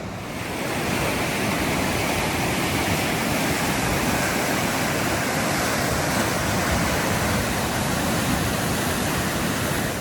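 Small river system in Atlantic Canada with little pools, rushing steadily and fairly loud close by, a continuous broadband wash of flowing water with no pauses and no talking.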